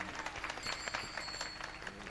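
An audience at a kirtan claps to welcome the speaker, a brisk run of applause from a moderate-sized crowd, somewhat distant and fairly quiet.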